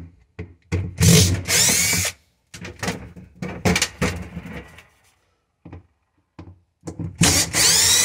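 Cordless power drill backing screws out of a Samsung refrigerator's interior cover panel: several short, loud whirring bursts separated by pauses and handling clicks.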